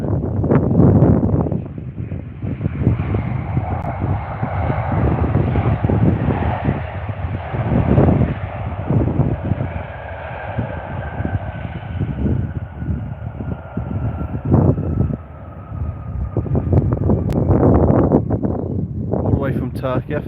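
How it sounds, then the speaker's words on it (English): Boeing 737 MAX 8 airliner passing near London Stansted Airport, a steady broad jet roar with wind buffeting the microphone throughout, while people talk over it. "Here comes that 737 MAX 8 now"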